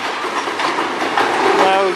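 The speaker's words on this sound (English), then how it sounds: "This is an industrial train." An industrial freight train rolls past close by, a steady, loud rumble of wheels and cars with faint clickety-clack, continuous for the whole stretch.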